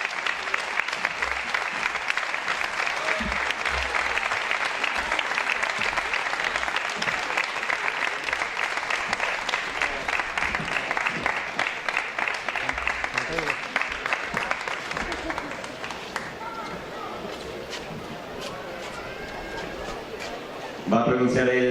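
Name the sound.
crowd applause for animal protection association at festival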